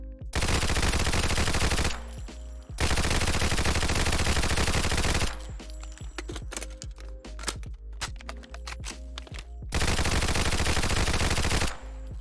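An American 180 .22 submachine gun in a video game mod fires long, dense, rapid bursts, then reload clicks and clacks sound in the gap between them, all loud and close with no talking.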